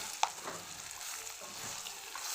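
Soybean chunks being stirred into a vegetable dish frying in a pan, giving a soft steady sizzle with a small utensil clink near the start.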